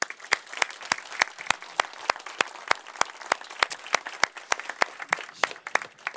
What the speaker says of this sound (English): I think we will have a hard round of applause for Mr. Redonnet, Simona Pinto, and the team from the EU Commission